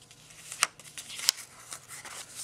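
Paper flaps of a handmade Christmas gift card holder being folded down, giving two soft crisp creases and light rustling, close and quiet.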